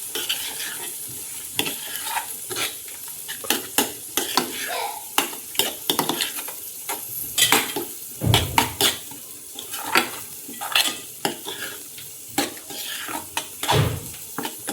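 Egg mixture with salt being stirred and fried in a home kitchen pan, with repeated scraping and clinking of a utensil against the pan over a steady sizzle, close and busy throughout.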